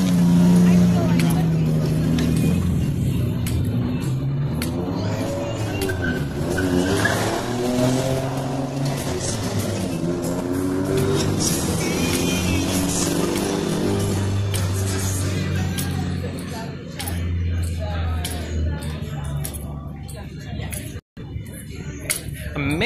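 A sporty car drives past with a sustained engine roar and tire noise throughout, close and loud, with voices talking over it.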